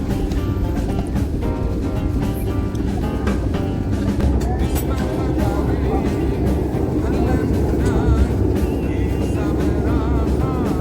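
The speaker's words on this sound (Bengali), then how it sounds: "আমাদের ট্রেন ঢুকে গেল কোলাঘাট স্টেশনে।" The Howrah–Puri Vande Bharat Express pulls into Kolaghat station, heard from inside as a loud, continuous rumble and rattle of the moving train, with a voice talking over it.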